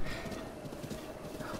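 Horse hooves clip-clop steadily in Zelda: Breath of the Wild, a soft continuous trotting rhythm under a dense layer of game ambience, faint and even throughout.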